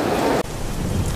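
Heavy rainy-season downpour at an outdoor sound-system setup, a dense steady roar of rain with a brief dip partway through, loud and continuous.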